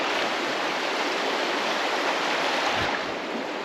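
The river at Burnsall on the Dales Way, not in flood, rushes with a steady, broadband roar of flowing water, continuous and close, without talking.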